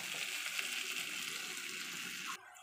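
Cabbage hits hot oil and spiced masala in a pan, giving a steady loud sizzle and frying hiss that cuts off abruptly near the end.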